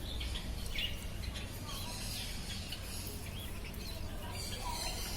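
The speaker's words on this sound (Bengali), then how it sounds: "এক ঝাঁক এক্সোটিক ফিঞ্চ পাখি দেখতে পাচ্ছেন" Quiet, busy chirping and tweeting of many small exotic finches at a bird market, with a steady low hum underneath.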